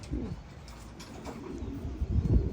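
Racing pigeons, a hen bred from Gaby and Van Dyck lines, coo with low, soft throaty calls in a loft over a faint background murmur.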